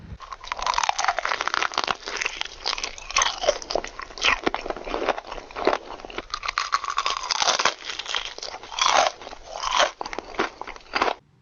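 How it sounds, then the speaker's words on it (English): Dense close-miked mukbang ASMR eating, continuous loud crunchy munching, crinkling and wet chewing with occasional gulps, filling the whole stretch without any talk. "A lot of mukbangers like to capture and emphasize their eating sounds, like the munching and the gulping sounds"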